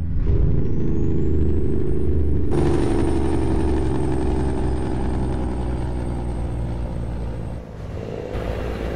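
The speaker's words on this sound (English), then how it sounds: "I was honestly focusing too much on the engine brake portion." Truck engine brake in American Truck Simulator, a loud, continuous low rumbling drone that steps up in intensity partway through with a rising whine, then cuts off near the end, no talking.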